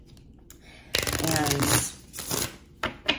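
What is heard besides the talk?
shuffling tarot card decks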